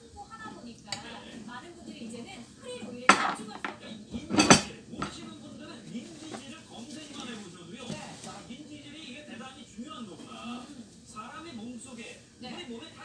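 A spoon scoops a big spoonful of homemade garlic gochujang in a home kitchen, clinking against dishes a few times, with a couple of sharper knocks near the middle, under ongoing talk.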